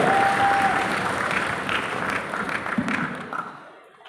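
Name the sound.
audience applause for Haryanvi poet at poetry gathering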